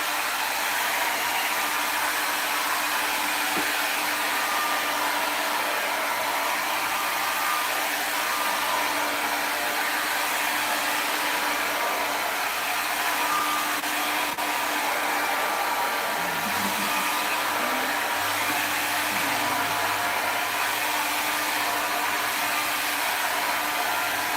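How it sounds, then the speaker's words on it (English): A hair dryer blows steadily at close range on a curly quick-weave hairstyle, a constant whirring rush of air with no pauses. "we're gonna take our blow dryer and just knock some of the curl out"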